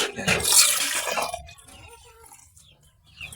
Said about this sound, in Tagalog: Pupunuin ko po ng tubig.